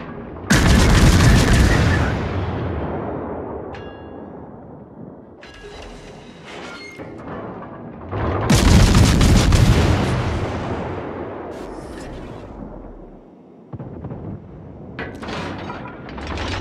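Heavy warship guns fire in a naval battle in World of Warships. Two huge booming salvos land about eight seconds apart, each followed by a long rumbling decay, with smaller sharp shots in between.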